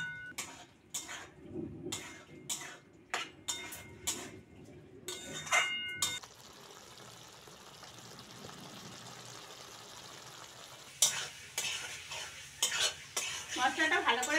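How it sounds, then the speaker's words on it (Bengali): Potatoes cooking in a pan with chili powder, salt and spices, punctuated by a run of sharp spoon scrapes and clanks as they are stirred, then a steadier sizzle, then more stirring knocks near the end. "লঙ্কার গুঁড়ো, লবণ, মশলাগুলো আলুর সঙ্গে ভালো করে কষে নেব।"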